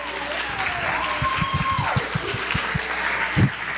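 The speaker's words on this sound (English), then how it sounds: "Let's give a round of applause to Davis Family School" Applause from an audience at a city public schools advisory board meeting, greeting Davis Family School; steady clapping with some tonal sweeps and low thumps mixed in.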